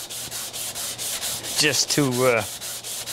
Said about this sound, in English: it makes the sanding a little bit better than just having the sandpaper with a solid backing